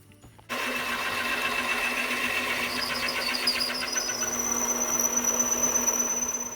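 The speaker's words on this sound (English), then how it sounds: "Every time I'm feeding in and I get to the part where the end mill breaks through" Harbor Freight mini lathe with an end mill cutting into a metal cube kicks in abruptly, then runs as a steady whirring motor with a rising high-pitched squeal of metal cutting, close and loud, no talking.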